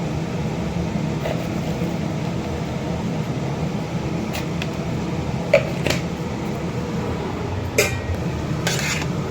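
Stirring and mixing food in a pan, with a steady background hum and a few faint scrapes and clinks of utensil against metal through the stir.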